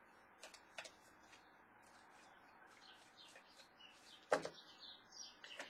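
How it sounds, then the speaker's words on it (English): Faint birds chirping outside through an open window on a fresh spring day, a few scattered distant tweets and a brief louder knock over a soft steady room hiss, no talk. "You can hear the birds outside."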